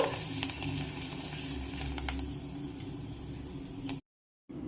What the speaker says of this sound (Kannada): ನೋಡ್ರಿ ಪಾಪಡಿನ ಫ್ರೈ ಮಾಡಿದೆ ನಾನು.